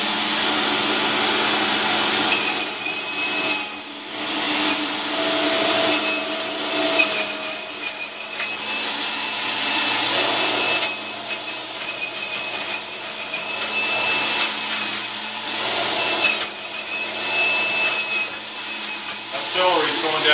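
A loud, steady motorized whir runs without pause, a Breville 800JEXL Juice Fountain Elite juicer's motor humming and grinding with some rattling variation throughout.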